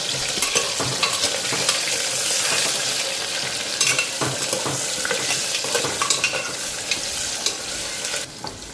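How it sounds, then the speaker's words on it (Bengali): Raw onion lightly frying in a pan while being stirred, a continuous close sizzle with frequent scraping and clinking stir strokes throughout, no voices. "পেঁয়াজটা হালকা ফ্রাই করে নিই"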